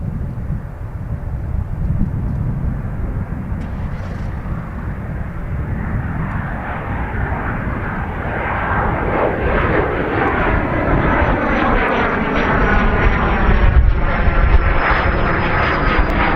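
Jet airliner engines roar close by on the runway at Dublin Airport, a broad continuous rumble that grows louder as the aircraft powers up, with a rising whine over it.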